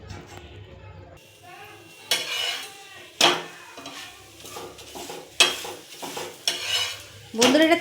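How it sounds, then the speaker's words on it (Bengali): A sattu paratha is laid on a hot tawa with a little refined oil and fries with bursts of sizzling, and spatula scrapes and clinks of metal sound close by between quieter stretches. "দিয়ে পরোটাটা আমি ভেজে নেব"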